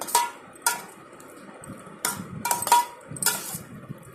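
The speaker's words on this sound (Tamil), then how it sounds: "இது எல்லாத்தையும் கலக்கிட்டா நம்மளுக்கு ஒரு டிப்பு ரெடி ஆயிடும். நல்லா மிக்ஸ் பண்ணிக்கலாம்." A spoon mixes tzatziki yogurt dip in a bowl, giving several sharp clinks against the dish spaced irregularly between softer wet stirring.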